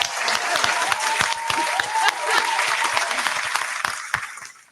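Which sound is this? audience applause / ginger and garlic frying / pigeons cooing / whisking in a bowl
audience applause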